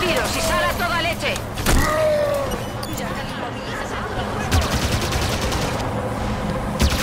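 Gunfire in the video game Halo 5: Guardians is aimed at a generator, with scattered shots and bursts mixed under steady voices and in-game noise.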